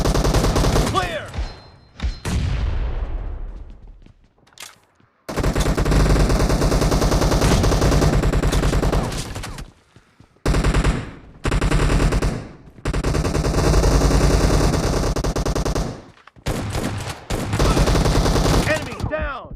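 Loud, rapid gunfire from the PUBG video game during a shotgun challenge comes in several long, dense bursts separated by short silences, close and dominant throughout.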